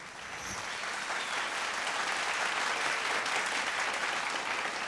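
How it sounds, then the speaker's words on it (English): Audience applause at a live televised vocal competition show, steady and dense clapping from a large crowd sustained throughout, fairly close and full, with no speech over it. "Round of applause."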